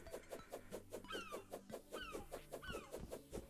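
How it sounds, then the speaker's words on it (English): Rapid, rhythmic clucking bird calls with a few descending squawks from a seagull in the video game Terraria, repeating steadily and fairly faint, with no talking. "Seagull."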